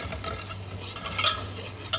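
Flour, furno brand, being roasted in a little oil in a two-litre pot, stirred with a utensil that scrapes and clinks against the metal in a quiet, steady rhythm, with a couple of sharper taps near the end.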